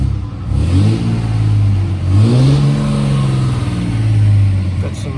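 A Cummins diesel engine in a Dodge Ram pickup revs loudly up and down several times, with deep rumbling pitch sweeps over a steady idle, heard up close.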